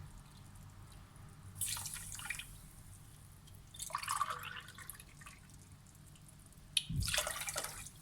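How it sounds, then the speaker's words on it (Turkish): Water splashes and trickles into a pot of baklava syrup in three short bursts, separated by quiet pauses, close by and fairly soft. "Yine aynı bardak ölçüsüyle 3 su bardağı da su ekliyorum."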